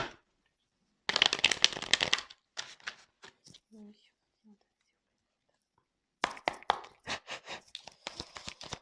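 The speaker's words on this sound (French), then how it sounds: "J'ai préféré faire le tirage devant vous, comme ça, au moins il n'y a pas de triche." Playing cards are shuffled for a tarot-style reading in quick rustling bursts, close and crisp, with soft spoken French between the bursts.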